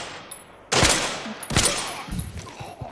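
Gunfire in the shooter game Arena Breakout comes as two loud, sharp bursts of rapid shots about a second apart, then fainter trailing shots.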